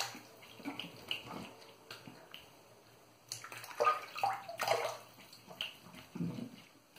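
Water splashes and runs in uneven bursts as a face is rinsed after a shave with lime soap, quiet at first then louder splashing near the end.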